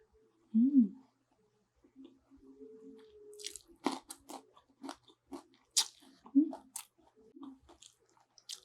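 Crunchy fried dried fish (danggit) being eaten up close, with a burst of hums and then a run of sharp crunches and chewing bites in quick irregular succession.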